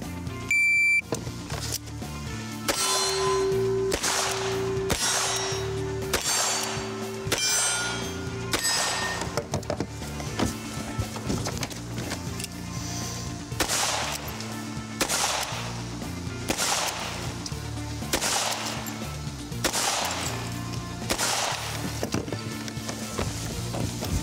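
Repeated gunshots crack out in quick succession on a cowboy action shooting course, mixed with ringing metallic clangs of targets being struck, loud and steady throughout a fast-paced stage run.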